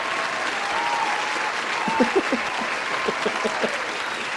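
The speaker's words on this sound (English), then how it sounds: "oh, applause" Applause during a live online trivia quiz night, a steady wash of clapping with faint voices and brief tonal sounds scattered under it.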